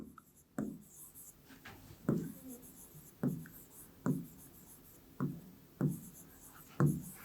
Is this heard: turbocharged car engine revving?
no